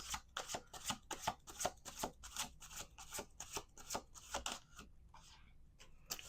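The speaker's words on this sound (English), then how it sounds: "We're going to do 2 more shuffles." Rapid riffle shuffling of tarot cards, a quick series of crisp flapping bursts that speeds along, then a softer settling shuffle at the end.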